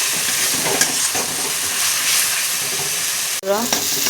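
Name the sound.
pointed gourd and prawn curry being stir-fried in pan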